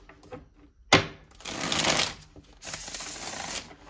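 A deck of Divine Love oracle cards is handled up close: a sharp snap, then two rapid fluttering shuffles of the cards, loud and near, with no talking.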